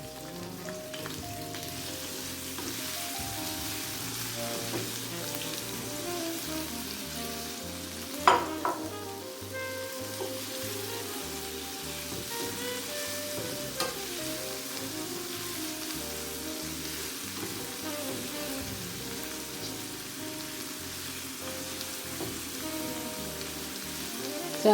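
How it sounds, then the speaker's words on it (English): Crushed garlic and ginger fry in a hot pan for sweet and sour chicken, a steady rain-like sizzle lasting throughout, with occasional clinks of stirring and a low hum underneath. "So I'm going to go ahead and add my crushed garlic and my ginger."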